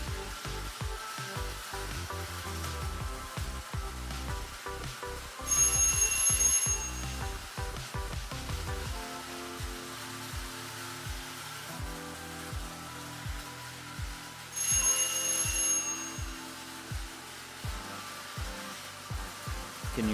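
A toy Marx train set runs on its track with a rhythmic clicking and rattling, broken twice by a loud, shrill bell that rings in rapid bursts like an old telephone.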